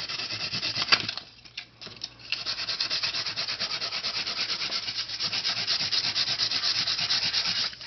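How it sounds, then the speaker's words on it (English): Light sanding across an embossed birthday card, a close, soft rhythmic rasp of quick strokes that halts briefly near the start before resuming steadily. "So I lightly sanded it, just very light, just to get a little bit of the white showing."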